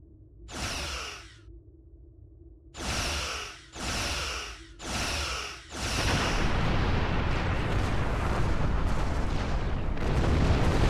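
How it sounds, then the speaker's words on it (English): Starship phaser fire in the space combat game Star Trek Online comes as four loud booming bursts in quick succession, then a sustained roaring blast of noise that fills the rest of the moment. "Ship is under attack."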